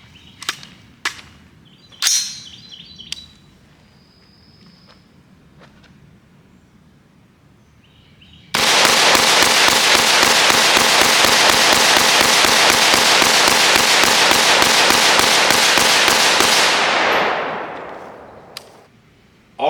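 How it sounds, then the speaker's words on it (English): Diamondback DB15 rifle fired at an outdoor range: a few scattered sharp cracks, then a long, dense string of rapid, loud reports that suddenly stops and fades. "It was very fun to shoot at the range."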